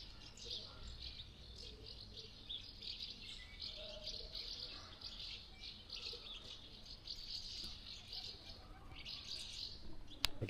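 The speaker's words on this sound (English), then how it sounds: "The birds have all come to church this morning." Birds chirp and tweet steadily in the distance in the old part of Sospel, France, a continuous bright outdoor chorus with faint background murmur.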